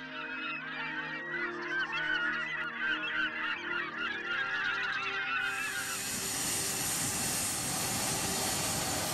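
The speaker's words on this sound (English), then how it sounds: "There were many seabirds nesting on a spit near Puerto Williams" Many seabirds call and squawk together in a noisy nesting colony chorus on a spit near Puerto Williams, Chile, then a loud rushing roar of wind or engine noise swells and drowns them out.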